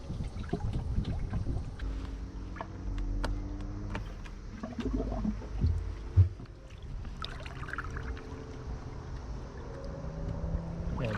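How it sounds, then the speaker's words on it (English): Bilge pump running steadily as it drains water from a sunken jet ski, a continuous low churn alongside wind and water noise, with a brief louder knock midway. "That's the bilge pump now running."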